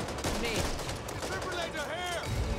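A six-barrel defense gun fires in dense, rapid bursts in the Back 4 Blood video game, packed with other loud game noise and possible voices throughout.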